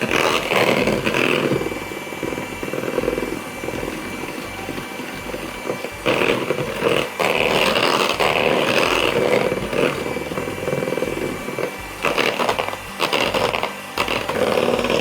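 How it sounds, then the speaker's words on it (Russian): An electric mixer whips egg whites with sugar for a coconut Raffaello cake sponge: a loud, steady, close motor whir that swells slightly as the beaters move through the foam. "Чем дольше мы взбиваем белки, тем пышнее будет у нас бисквит"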